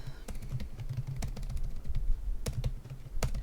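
Irregular clicking of fingers typing on a computer keyboard, close and fairly quiet, with short bursts of keystrokes and brief pauses between them.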